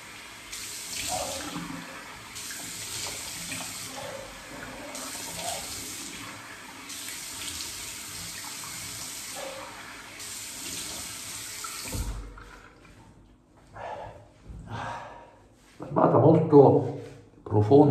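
A shaving razor rinsed under a running tap in a sink, bursts of flowing water broken by brief pauses, then splashing and clinks near the end; someone speaks throughout.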